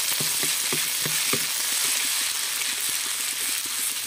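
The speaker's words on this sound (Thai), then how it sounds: "เราไปผัดเครื่องกันครับ ลงมือกันเลย ผัดเครื่องให้หอมครับ" Curry paste with kaffir lime leaves stir-fried in a fairly oily pan for a northern Thai khua kae dish: a steady, close sizzling hiss runs throughout, broken by repeated rhythmic scrapes and taps of a spatula against the pan, with no talking.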